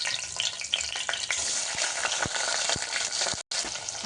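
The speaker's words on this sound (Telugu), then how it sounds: "ఇప్పుడు పచ్చిమిర్చి ఆనియన్స్ ముక్కలు కూడా ఇందులో వేసి వేయించుకున్నాం" Green chillies and onion pieces frying in a pan hiss and crackle loudly and constantly, with sharp pops and stirring, while the sound briefly cuts out near the end.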